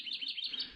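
Birds along a wooded birding trail in an Iowa habitat area give a quick run of bright, high chirps, clear and fairly close, in a brief burst with no talking.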